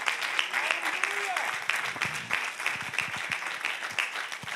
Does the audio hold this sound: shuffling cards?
no